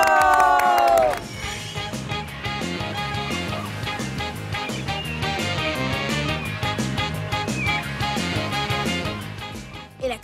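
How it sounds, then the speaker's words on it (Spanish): An awards-ceremony audience at the Premios Platino 2018 cheers and applauds an honored Mexican actor, a loud sustained crowd roar with shouts and whoops, preceded by a brief musical note and mixed with some voices. "hay que echarle un aplauso a nuestro ¡bravo!"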